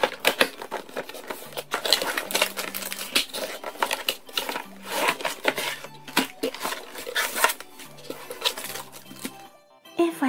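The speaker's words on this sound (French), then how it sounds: "on passe au déballage." Unboxing a Play-Doh kitchen toy kit, with close crinkling plastic, rustling cardboard and clattering small plastic pieces in irregular bursts, while a person speaks in French at times.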